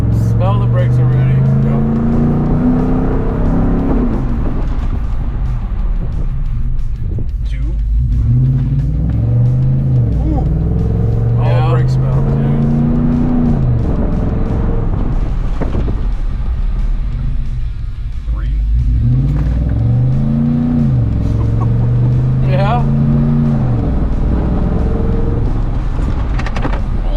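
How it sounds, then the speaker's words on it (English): A Ford F-150 pickup with drilled and slotted rotors repeatedly accelerates and brakes hard from about 40 to 10 mph, engine rising and falling in cycles with road rumble inside the cab, while people talk over it. "we are in the bedding procedure to basically get from 40 miles per hour and brake aggressively down to 10"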